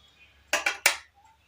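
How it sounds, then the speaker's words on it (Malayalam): A spoon knocks against a pot on the stove while turmeric is stirred into a Kerala banana stem curry: three quick, close metallic clinks in a short burst over a quiet background. "ഒന്ന് ഇളക്കിയതിന് ശേഷം മഞ്ഞൾപ്പൊടി ഇട്ടതിന് ശേഷം ഒന്ന് ഇളക്കി കൊടുക്കാം"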